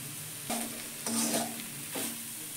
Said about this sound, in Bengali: লবণ আর চিনিটা দিয়ে একটু নেড়ে নেব।